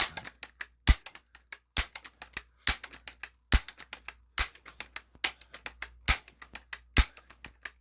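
Sharp, separate shots from a Daisy Powerline 822 .22 caliber air rifle firing lead pellets, heard close and alone. Ten shots come at an even pace, each a crisp crack followed by smaller mechanical clicks.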